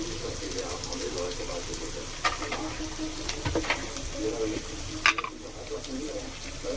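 Spice masala of ginger, cumin powder and turmeric fries in a pan with a soft, continuous sizzle, punctuated by a few sharp clinks and stirring scrapes from a utensil; no talk is heard.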